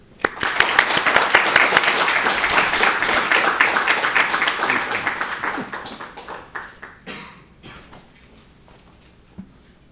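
An audience at the Hu Shih Distinguished Lecture at Cornell welcomes lecturer Victor Mair with dense, sustained applause for about six seconds, which thins into scattered claps and fades out.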